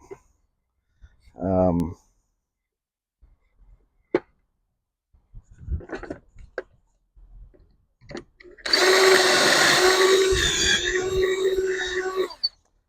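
A few short knocks and a brief mechanical whir come first, then a drill boring pocket holes in pine runs loudly and steadily for several seconds before stopping.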